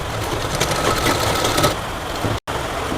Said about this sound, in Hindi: इस तरह से बराबर करके हम सिलाई लगा देंगे।